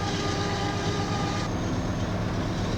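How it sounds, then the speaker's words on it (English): CN freight train rolling along across the river, a steady, moderately distant rumble of wheels and cars that holds evenly throughout, with no voices over it. "there's a CN train over there across the river"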